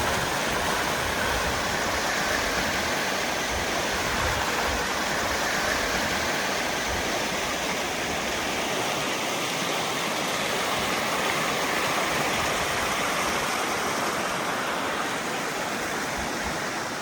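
Trout Creek flowing beneath a trail bridge on the Kettle Valley Rail Trail near Penticton; a steady, dense rushing of water fills the whole stretch at even volume, broad and hissing with no voices.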